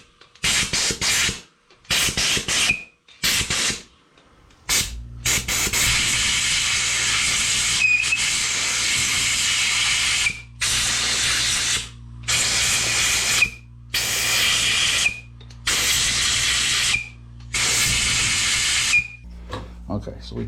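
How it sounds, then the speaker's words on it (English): Compressed air is blown through 1976 Harley-Davidson FLH rear cylinder head and rocker box parts to clear out liquid, producing loud sharp hisses in short repeated blasts, then longer sustained bursts over a running compressor hum. "let's take this over to where my compressor is and we'll get any liquid out of there"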